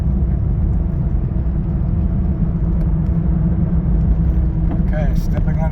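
A 1998 Jeep Cherokee XJ engine settling to idle while the brakes are applied, a loud continuous low rumble heard from inside the vehicle, with a brief higher squeak near the end.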